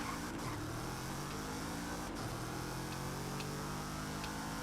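A Maserati in a racing video game holds a steady, droning engine note at high revs throughout, with a few faint shifts and bumps, loud and continuous with no talk.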